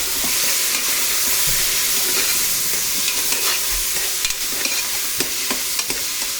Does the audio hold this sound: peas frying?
yes